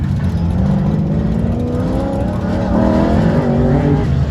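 A Chevy Camaro race car at an autocross, its engine loud and near, pulling hard with rising revs under a steady roar.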